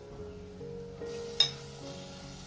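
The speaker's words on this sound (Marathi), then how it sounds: "खाडा आपला मासा सुकट 2-3 वेळा मी स्वच्छ धुवून घेतलेली आहे ती आता मी त्याच्यामध्ये टाकते." Washed dried Khada fish dropped into a hot clay pot for a Konkan Koli-style dry dish, a quiet sizzle that jumps when the fish lands with one brief clatter, then settles into a low hiss.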